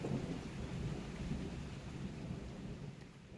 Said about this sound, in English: Only the sound of rain remained.